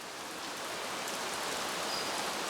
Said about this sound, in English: During monsoon season, a day without short but ferocious downpours is rare.